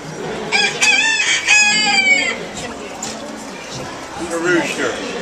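A rooster crows loudly and close on the Gran Fiesta Tour ride at Epcot, two drawn-out calls in quick succession, with a few softer clucks and background noise afterward.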